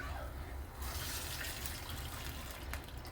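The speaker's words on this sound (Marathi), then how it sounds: "आता आपण पाणी टाकूया 1 वाटी" A bowl of water is poured into a pot of hot oil, cumin and green chilli, a soft gushing splash that swells after a quiet start and runs on steadily, faint and close.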